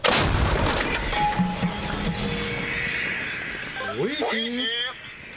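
An artillery gun fires with a loud, close blast at the start, its boom rolling and fading over several seconds while radio-like voices and tones chatter underneath.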